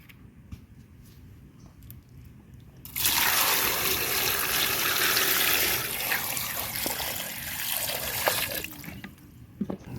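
Water pours into a pot of tapioca for boiling, a loud continuous splashing rush that starts suddenly after a few quiet seconds and then fades back to faint kitchen sounds.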